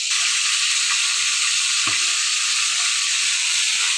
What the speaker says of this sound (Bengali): আমার মাছটা হয়ে যাচ্ছে